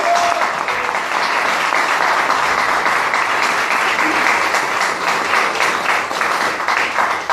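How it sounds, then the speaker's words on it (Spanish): Congregation clapping in a church during a Spanish-language sermon, a dense, steady and loud round of applause that fills the whole stretch without letting up. "si le va a dar un aplauso al Señor, déselo con fuerza"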